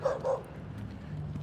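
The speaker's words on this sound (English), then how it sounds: "You hear that dog barking right now?" A dog barks twice in quick succession at a moderate distance, followed by a low steady background hum.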